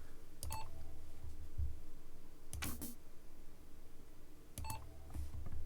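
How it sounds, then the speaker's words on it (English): A shooter game gives hit-feedback sounds: three brief clicks, each paired with a short bright ding, spaced a couple of seconds apart over a faint background hiss, with no talking. "So the kind of higher pitched ding is the client hit."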